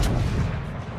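Battleship secondary guns firing in World of Warships: Legends, a single heavy booming blast up close that rolls off within a second, with no voices.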